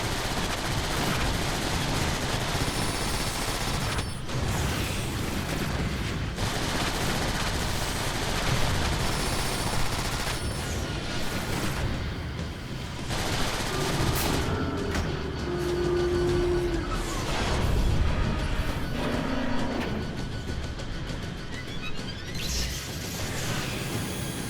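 Energy beam weapons firing in a Transformers video game, a dense, loud barrage of rapid bursts and mechanical clatter that continues without break, with a few sustained tones cutting through.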